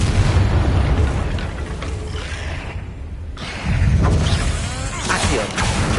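A Confringo explosion spell in Hogwarts Legacy sets off loud, rumbling booms and crackling blasts layered over heavy game action. The din stays dense throughout, dips briefly, then surges again.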